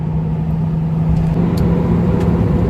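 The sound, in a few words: V8 pickup truck driving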